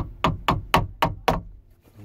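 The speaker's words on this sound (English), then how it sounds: "you can just tap it with a hammer lightly" Five light, evenly spaced metallic taps from a hammer on a car power window motor, close and distinct, followed by a brief quiet tail.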